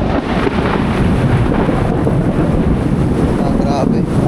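Thunder rumbles through a rainstorm on a farm, a deep, loud, continuous roll mixed with rain and wind buffeting the microphone.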